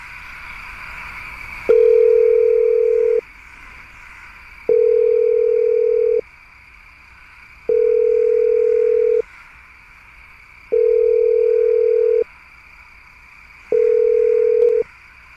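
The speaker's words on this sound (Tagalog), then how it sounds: "Matawagan nga ulit." A telephone ringback tone plays while a call is being placed, sounding five evenly spaced steady beeps about three seconds apart, each lasting roughly one and a half seconds over a faint background hum.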